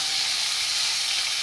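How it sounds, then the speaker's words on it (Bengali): Chopped garlic, onion and tomato fry in a pan as fish curry is cooked, giving a steady, close sizzling hiss that stays even throughout, with no other sound. "এখানে রসুন কুচি ভাজা হচ্ছে"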